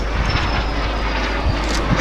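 A Hunting Percival Jet Provost T5 jet trainer flies at the Little Gransden air and car show, its loud, steady engine roar dominating throughout.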